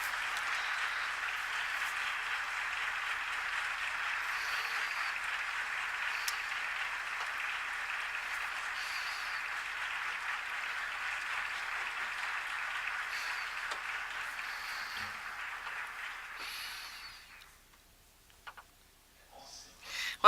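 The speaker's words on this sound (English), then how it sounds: "We don't need to ask the round of applause, as you do it spontaneously." Spontaneous audience applause for a panelist at an academic panel session, a steady dense clapping heard somewhat distant and soft, holding evenly before tapering off into quiet with a few stray claps.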